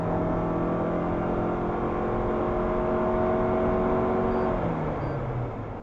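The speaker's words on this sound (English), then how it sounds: "Here, just for fun, I tried my RAV4 hybrid acceleration" A Toyota RAV4 hybrid accelerates in a steady, continuous whir heard from inside the cabin, with tonal hums that climb slowly in pitch and then ease off near the end. No one speaks.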